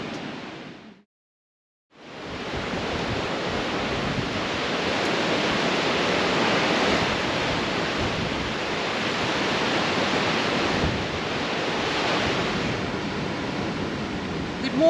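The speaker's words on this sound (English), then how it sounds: "I think we're going to sleep well with the sound of the waves in the background" Surf from the Indian Ocean breaks along the Mozambique coast in a dense, steady roar that swells and eases, briefly cut off near the start, then continuing loud and unbroken.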